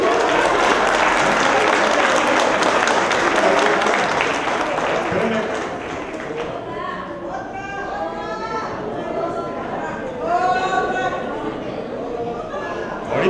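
Audience applause at an artistic performance and closing ceremony, dense clapping for about six seconds, then fading into softer scattered claps with lively crowd chatter and voices over it.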